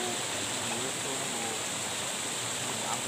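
A river waterfall flowing, heard as a steady broadband rush of water that holds constant throughout, with faint voices in the background.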